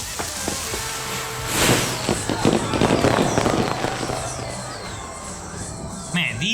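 Fireworks bought by kids go off outdoors in a string of sharp pops and crackles, loudest midway and thinning toward the end, with voices talking faintly through the bangs.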